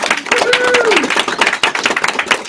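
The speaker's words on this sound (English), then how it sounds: "Big round of applause for Lily, everyone." A small audience at a self-help talk clapping, a quick burst of scattered, fairly close hand claps, with a voice briefly speaking over the applause.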